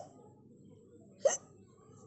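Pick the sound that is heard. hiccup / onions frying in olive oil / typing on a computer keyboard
hiccup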